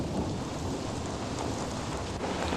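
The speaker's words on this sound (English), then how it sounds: "Beautiful soaking rains that drenched the heartlands, putting to rest any fears of past drought." Heavy rain pours steadily in a dense, continuous roar during the 1993 Midwest floods, with a deep rumble of thunder rolling underneath throughout.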